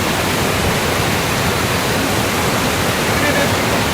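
Waterfall pouring into a small natural pool near Jaradagada village in Odisha, India, a steady close roar of rushing water at constant loudness with no breaks.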